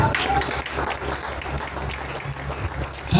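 A church congregation breaks into sustained applause, a dense, fairly loud wash of clapping from many hands filling the room throughout, with some voices mixed in.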